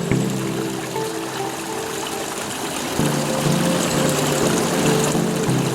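Small waterfall pouring steadily outdoors, a dense continuous rush of water close by that grows slightly louder partway through, with no voices.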